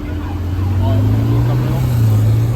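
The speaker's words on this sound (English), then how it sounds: "Yep, golf cart." A golf cart drives past at a car meet with a steady low motor hum whose pitch slowly rises and falls, heard close by while people chat over it.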